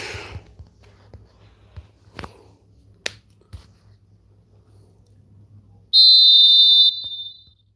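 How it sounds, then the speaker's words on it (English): A referee's whistle in the eFootball video game gives one sustained, shrill blast near the end, cutting sharply over a quiet background of faint clicks and soft thuds. "Whistle's gone, that's foul."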